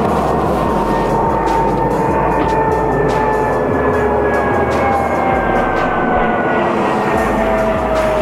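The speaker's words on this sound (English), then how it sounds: "Hear a plane, but you can't see it." An airplane drones steadily overhead, a continuous low rumble with a slowly shifting engine tone, loud and unbroken throughout.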